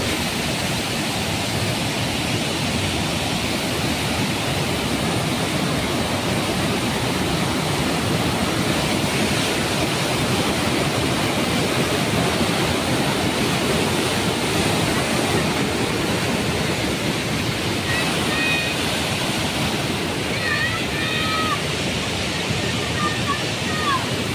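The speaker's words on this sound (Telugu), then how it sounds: "మెట్ల నుంచి అయితే వాటర్ చాలా ఎక్కువగా వస్తున్నాయి" Heavy water pouring and splashing continuously down the steps of Kothapalli waterfall in the rainy season, a loud steady roar throughout, like a strong cascade, with faint voices now and then.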